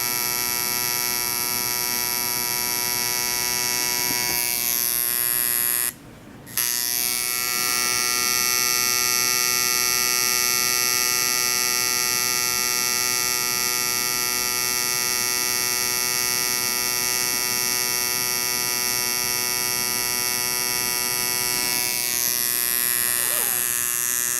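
Tattoo machine buzzing steadily and loudly for the whole stretch while a line is pulled on skin during a cover-up, a constant electric hum with one short break partway through.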